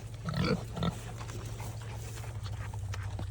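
Pigs grunt a couple of times up close, followed by softer snuffling and rustling in the background.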